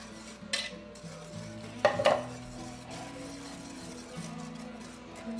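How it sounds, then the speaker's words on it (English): A spoon stirs milk into dry chocolate pudding powder in a pot, making soft, steady scraping with a couple of louder clinks against the bottom, close and fairly quiet with no talk. "Just doing a nice stirring"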